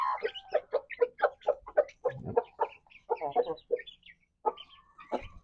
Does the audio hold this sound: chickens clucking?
yes